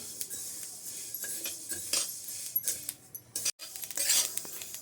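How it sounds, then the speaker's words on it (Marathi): Sesame seeds roasting in a dry kadhai for til laddoos, giving a thin crackling sizzle with light metallic clinks and scrapes as a spoon stirs, quiet and close with a brief gap near the end. "तिळ भाजते वेळेस तिळाचा असा तळतळ आवाज येत आहे"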